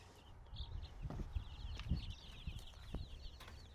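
Soft, scattered clucks and peeps from a group of baby chickens on a farm, fairly close and faint, with occasional shuffling and light thumps.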